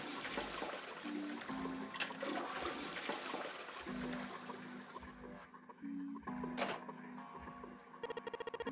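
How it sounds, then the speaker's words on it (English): A toilet flushes in the video game 999: 9 Hours 9 Persons 9 Doors, a loud rushing water flush with gurgling that runs for several seconds, set against a droning game soundtrack. "I heard a loud flushing noise."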